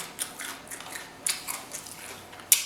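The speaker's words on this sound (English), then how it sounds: "You guys hear that crunch?" Crisp crunching bites into a deep-fried king crab leg, several short brittle cracks spaced irregularly, close and fairly quiet, with no talking.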